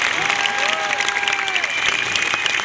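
A comedy show audience claps loudly and continuously, with scattered cheers inside a dense wall of applause and a brief whistle-like tone rising over it.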